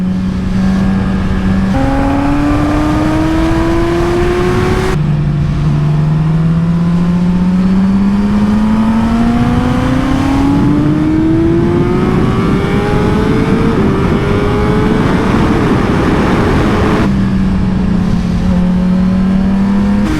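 A SERT factory superbike engine on a cold track, loud and steady throughout, rising in pitch through each gear with sharp drops at the shifts, recorded close on the bike with no talk.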